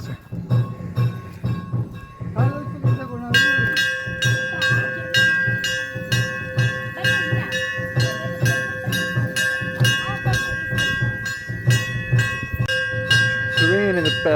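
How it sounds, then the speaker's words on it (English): Church bells ring steadily outside a place of worship during a prayer service, with sustained metallic tones layered over a continuous murmur of background activity and occasional voices. "The ringing of the bells is significant to the prayer that's going on inside."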